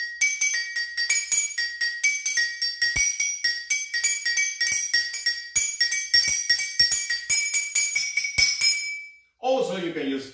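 Glasses of water are struck as musical notes in a quick, uneven rhythm, producing bright ringing tones with clear pitch that sustain and overlap, close and loud. A brief voice follows at the end.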